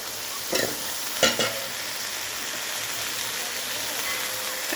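Spinach goes into a pan of fried chilies and spices, with a couple of sharp thumps and bursts as it lands, then a steady, close sizzle continues underneath.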